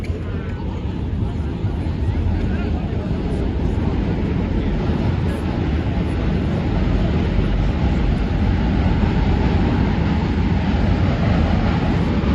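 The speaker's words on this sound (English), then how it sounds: "Hearing the clitter clatter of the N or Q train." A New York subway train, the N or Q, rumbles and clatters steadily over a bridge in Brooklyn, a loud low roar with rattling wheels filling the whole stretch.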